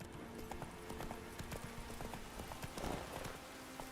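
Roach, a horse in The Witcher 3, gallops with rapid, rhythmic hoofbeats that clip-clop steadily at moderate volume, and a faint whinny rises near the end.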